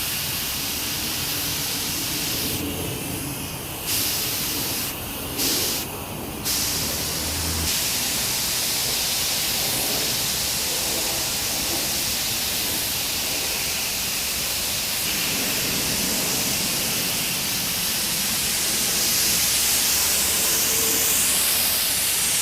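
A spray gun lays clearcoat on a Ninja motorcycle tank during a restoration, producing a steady close hiss with short bursts as the trigger is pulled and released.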